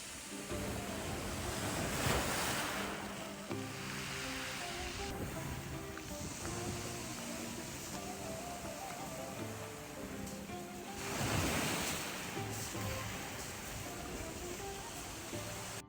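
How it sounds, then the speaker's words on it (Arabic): Sea waves wash and break against rocks on the coast at Samra, Syria, with wind blowing across the microphone, a steady roar that swells louder around two and twelve seconds, with no talking. "ما في صوت غير صوت الموج عم يحكي مع الحجر، والهواء عم يهمس"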